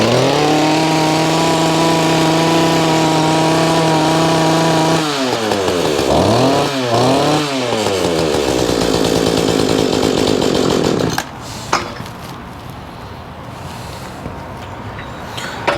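A lawn mower engine runs loud and close, its buzzing pitch wavering and dipping as it warms up and settles toward idle, then cuts out abruptly, leaving faint clatter and quiet.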